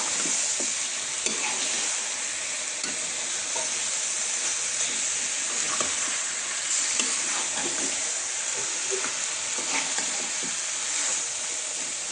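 Spiced chicken being stirred and sautéed in a pan, a steady, close sizzle and hiss with scattered scraping and stirring clicks throughout, no talking.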